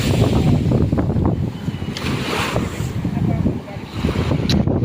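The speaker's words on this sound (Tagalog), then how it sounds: "Lalaki ng alon." Big ocean waves crashing and washing in a continuous loud rumble, with heavy wind buffeting the microphone. People talk faintly underneath.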